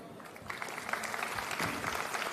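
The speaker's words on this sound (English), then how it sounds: "May we have a round of applause for opening the graduation ceremony." An audience claps at an engineering graduation ceremony, a steady, moderately loud wash of applause that continues through the whole stretch with no voices on top.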